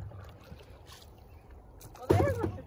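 A canoe paddled on the Bow River in Banff National Park, Alberta: soft water movement and wind, then a close paddle stroke with a splash and gurgle near the end.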